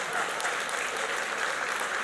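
Steady applause from guests at a civil liberties dinner, an even wash of clapping that carries on throughout without a break.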